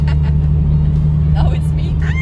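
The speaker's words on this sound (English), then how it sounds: "I wasn't sure if that was the car screaming or a kid outside screaming." A Toyota MR2 turbo engine running with a steady loud low drone, close and continuous, while people talk over it.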